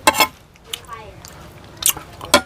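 Someone eats a burnt, blackened sausage for breakfast, with moist bites and chewing coming close and loud in a few bursts, separated by quieter stretches where a voice talks.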